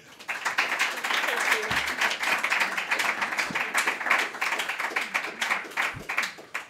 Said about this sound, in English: So could we have a nice warm round of applause for Ritzy?